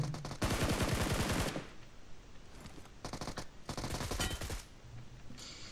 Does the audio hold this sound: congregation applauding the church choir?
no